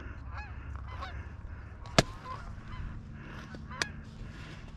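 Geese honk repeatedly during a duck and goose hunt, a few sharp loud calls standing out above a low murmur of more distant honking.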